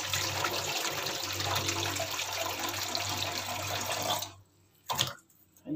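Running water rinsing freshly cut fish pieces, a steady splashing gush that stops abruptly near the end, followed by a brief splash and then quiet.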